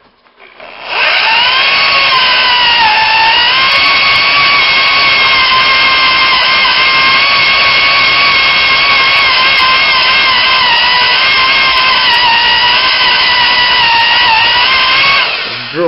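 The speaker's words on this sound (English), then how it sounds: "So we'll drill through them" A power drill whines loudly and continuously for over ten seconds, its pitch wavering slightly as it bores through a metal frame, then cuts off at the end.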